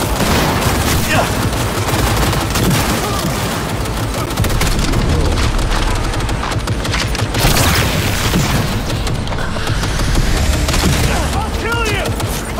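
Sustained gunfire from the Cyberpunk 2077 video game, dense rapid bursts and booming shots filling the scene loudly and continuously, with voices calling out over the combat.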